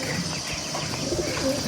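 Pigeons coo softly outside a home, a few low murmuring calls rising faintly over a steady background hum, with no talking.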